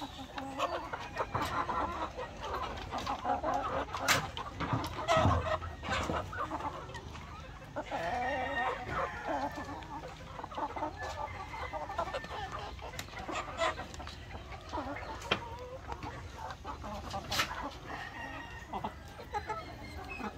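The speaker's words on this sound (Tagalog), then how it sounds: "ito namang mga manok na ito ay mangingitlog din" Young laying hens around five to six months old clucking continuously on a farm, a busy flock with overlapping clucks and occasional louder calls throughout.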